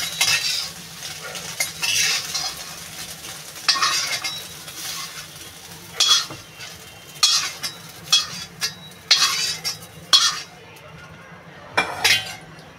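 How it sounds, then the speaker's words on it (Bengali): Soybean chunks stirred and fried in a kadai, with repeated bursts of scraping and clinking from the utensil against the pan over a low background sizzle, close and irregular, with no speech. "এবার এটা ভালো লাল করে ভেজে নেব।"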